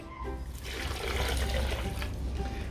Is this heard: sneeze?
no